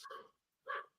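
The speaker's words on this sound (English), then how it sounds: "I don't know if you can hear the dog in the background" A dog in the background gives two short, faint barks about half a second apart, distant and otherwise quiet.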